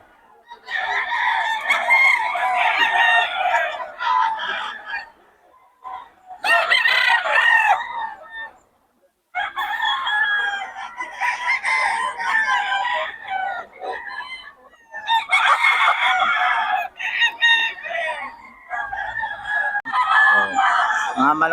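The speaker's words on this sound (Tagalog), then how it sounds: "Quality mga manok ni Boss Batang ngayon 5K." Chickens cluck and roosters crow repeatedly in bursts, close and fairly loud, with brief pauses between the calls.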